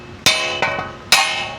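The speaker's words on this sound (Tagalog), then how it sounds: "pinupukpok lang yan." A hammer pounds a wheel stud out of a car hub in an auto repair shop: three sharp metallic blows at close range, each leaving a bright ringing decay.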